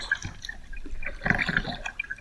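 Paddle strokes dip and pull through still, stagnant river water at an easy pace, giving soft irregular splashes and drips close by with no voices.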